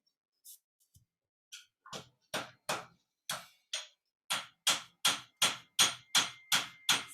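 Blacksmith hand-hammering a Sakai forged knife blade, a run of sharp metallic strikes that starts sparse and irregular, then settles into a steady, fairly fast rhythm of about a dozen close blows.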